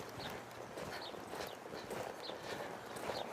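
A horse moves around an arena during barrel-racing training, its hoof falls landing in a steady, moderately soft clip-clop rhythm against faint background noise, with no talking.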